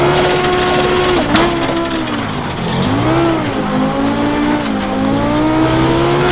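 A Group B Audi rally car engine roars in the AMS1 racing game on a gravel hillclimb, loud and close, pitch swooping up and down through gear changes with tyre squeal under it.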